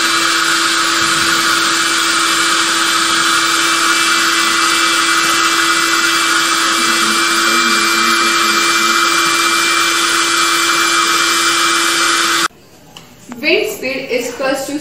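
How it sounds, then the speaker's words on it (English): A dryer blows air to make wind for a small model, with a loud, steady whirring rush that cuts off abruptly, followed by a person talking. "I have created wind from a dryer"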